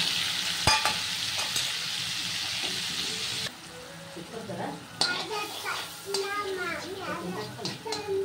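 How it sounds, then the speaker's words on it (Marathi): Ground chutney frying with mustard seeds and cumin in a pan for a spicy fenugreek zunka: a loud, close sizzle and stirring scrape at first, then quieter frying under a woman's speech and a voice. "टाकणार आहे आता मिक्सर मधून काढलेली चटणी"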